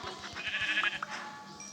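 Sheep bleating in the Minecraft video game, a few short wavering bleats in close succession over a low game background, clear and alone without talk.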